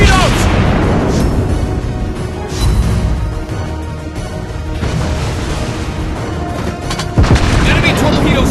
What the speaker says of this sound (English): Enemy torpedoes spotted! Target hit!